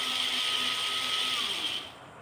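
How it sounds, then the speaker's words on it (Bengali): A mixer grinder whirs steadily at high speed, blending green chilli, poppy seeds, white mustard and a whole tomato into paste, a loud continuous motor whine that winds down and stops near the end. "সজনে ফুলের পোস্ত বানানোর জন্যে আমি মিক্সিতে নিয়ে নিয়েছি একটা গোটা কাঁচা লঙ্কা, পোস্ত খানিকটা, কিছুটা সাদা সর্ষে আর একটা গোটা টমেটো"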